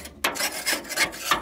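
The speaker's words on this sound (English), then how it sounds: "Give it a good scrape with give them the paint scraper." A paint scraper scrapes creosote inside the firebox of a Central Boiler E-Classic 1450 wood boiler, several close, rasping strokes in an uneven rhythm.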